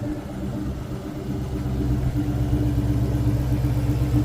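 2003 Mustang Cobra exhaust through Borla mufflers, a steady deep rumble at idle that grows slightly louder and fuller over a few seconds, heard close with no talking.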